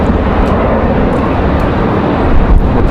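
A Republic Airways airliner arriving at Raleigh-Durham airport on a windy day, a dense, steady engine roar, briefly swelling near the end.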